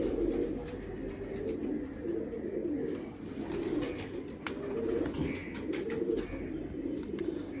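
Domestic pigeons coo in soft, repeated low throaty calls, several birds close by in a loft, with faint chirps and light shuffling in the background.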